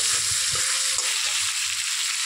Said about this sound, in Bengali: একটু মাছটাকে এরকম করে আলু টুকরো নুন টুকরো একটু নেড়ে ফেলে দেবো